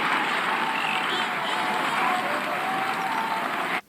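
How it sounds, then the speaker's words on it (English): A dense, steady wash of crowd noise and applause from a film scene plays loud and unbroken before cutting off abruptly at the end. "Where are those crowd sounds coming from?"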